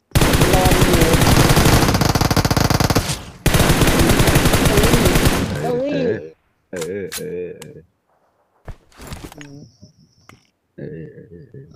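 Gunfire from the video game PUBG Mobile: long dense bursts of rapid automatic fire, then scattered sharp single shots and short volleys with gaps, loud and close.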